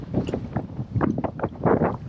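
Strong wind at Barston Lakes, a fishing lake during a feeder fishing match, buffets the microphone in loud, continuous rumbling gusts with no other sound standing out.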